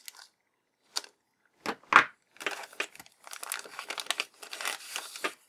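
Plastic blister packaging on a GI Joe comic pack being sliced and torn open up close, scattered crinkles and short crackling tears, then a denser run of rustling.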